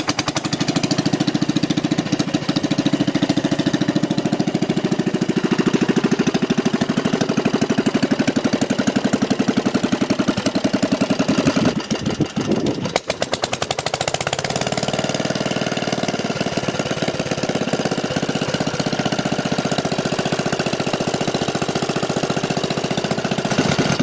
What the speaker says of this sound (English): French diesel, operates after restoration at a vintage machinery event